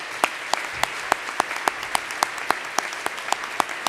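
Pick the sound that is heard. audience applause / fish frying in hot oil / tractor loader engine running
audience applause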